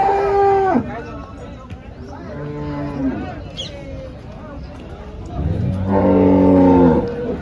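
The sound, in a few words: cows at a cattle market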